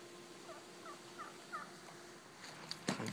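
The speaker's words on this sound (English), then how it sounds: "Turkeys are in the yard." Several short turkey gobbles repeat at a distance in a yard, fairly quiet, followed by a few sharper louder noises near the end.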